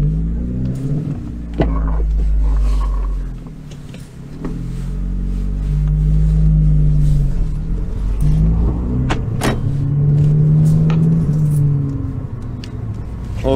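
A Mk2 Seat Leon FR on a stage 2 map with a Ram Air induction kit pulls away and accelerates, its engine note rising loud and close through the gears with a brief dip in between.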